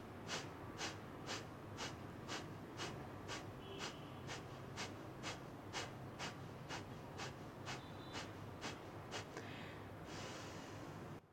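Rhythmic, forceful exhales through the nose during a breathing exercise: about twenty sharp, evenly spaced puffs of air, close and fairly quiet, followed by a softer release at the end.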